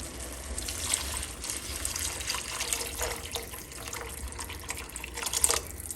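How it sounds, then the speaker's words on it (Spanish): Water is poured into a pot of cooking tomato, a close, steady trickling and splashing stream with faint sizzling underneath. "le vamos a agregar agua"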